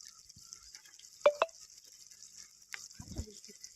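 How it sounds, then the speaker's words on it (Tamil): Onions sauté in a pan with a steady, soft sizzling hiss, broken by a couple of close utensil clinks and a brief scraping stir near the end. "வெங்காயம் வதங்கிட்டே இருக்கட்டும்."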